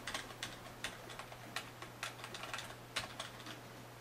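Light, rapid key clicks from a computer keyboard number pad, faint and irregular, with a steady low electrical hum underneath and no voices.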